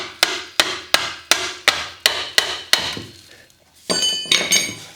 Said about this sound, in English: Let's give it a little tap with the hammer.